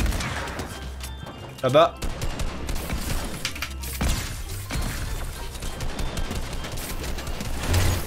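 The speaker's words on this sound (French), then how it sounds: "je me mange des balles de sniper" Sniper rifle shots in Fortnite, a few sharp reports scattered under a game soundscape with someone talking briefly over them.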